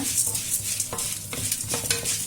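Cumin and fennel seeds being fried over a low flame for brinjal rice, a brisk sizzle with quick spoon scrapes against the pan, close and steady, no talking.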